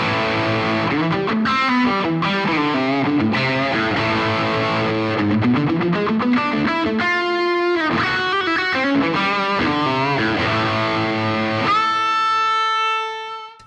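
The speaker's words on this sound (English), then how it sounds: "So let's switch in an overdrive pedal, and for this I'm going to be using an exotic BB preamp." Electric guitar played through a Two-Rock amplifier with an Exotic BB Preamp overdrive pedal gives loud, driven chords and single-note lines, ending on a sustained ringing chord that fades out.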